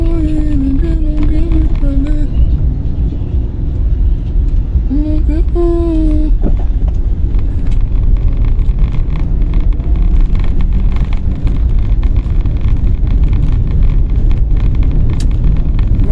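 Steady low road rumble and wind inside a moving car, with someone talking over it in the first seconds and the engine drone carrying on beneath.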